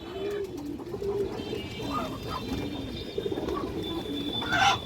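A male pigeon coos repeatedly in low, rolling calls, close by and fairly loud, with a few faint higher chirps near the end.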